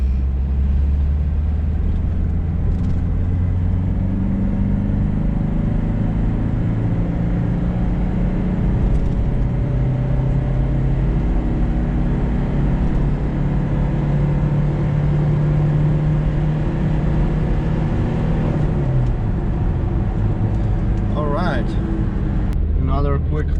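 A Ford Escort Express van accelerates hard in third gear from about 40 to 100, its engine droning low and steady throughout, with a brief whine near the end.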